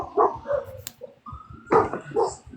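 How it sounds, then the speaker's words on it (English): Several dogs bark and yip in short bursts, a few sharp woofs separated by brief pauses, fairly close and clear, with some whimpering tones between barks. "Go tell them to get the dogs now, please."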